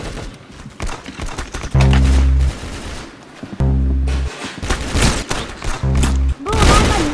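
Gunfire in the Roblox game Arsenal, loud rapid bursts of automatic shots with heavy thumping impacts, broken by short pauses and mixed with other game sounds.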